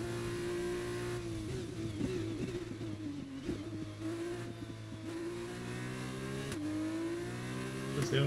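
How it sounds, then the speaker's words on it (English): Formula 2 car in the F1 2021 racing game at Sakhir, Bahrain, engine droning steadily with pitch rising and dropping through several gear changes, the shifts marked by brief dips and jumps in the engine note. "I love the sound. A sound of a gear change."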